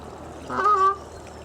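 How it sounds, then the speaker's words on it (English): Geese by a canal give a single short honk at a distance, faint over a quiet outdoor background. "Noisy geese."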